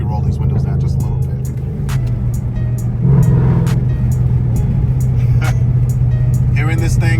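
Inside a moving Dodge Charger, the engine drones loud and low with the windows partly down, swelling slightly in the middle, while someone talks over it.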